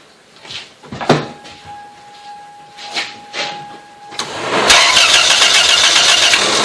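A Toyota Corolla engine cranks and fires after being reassembled: faint clicks and a steady tone, then a sharp catch at about four seconds and a loud, rough running roar that holds.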